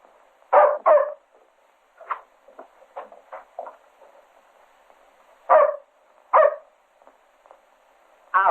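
A dog barks in short, sharp bursts, some doubled, with quieter yelps between them against a silent background.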